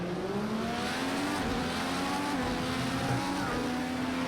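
IndyCar in the Project CARS 2 racing game at the Circuit of the Americas, its engine holding a steady high whine with slight pitch shifts, loud and continuous with no voices.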